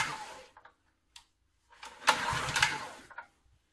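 A small engine on a motorized broom is started with the choke on, giving a few short clattering pulls and then a brief ragged burst of running before it dies away, close and fairly quiet.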